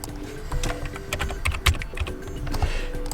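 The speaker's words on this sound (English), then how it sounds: "I'll try to do it using normal keyboard" Quick, uneven typing on a computer keyboard fills the clip, with close crisp key clicks over a low steady hum, no talking.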